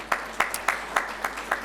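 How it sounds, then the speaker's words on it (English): Sparse, separate hand claps at a business forum, about six sharp claps spaced evenly over a second and a half, fairly close and with no crowd roar. "So can we have huge round of applause for him?"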